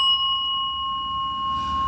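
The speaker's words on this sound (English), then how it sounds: "Hold on, let me get my bell." A single hand bell rings with one clear, bright tone that rings on steadily and slowly fades over a couple of seconds, with no talking.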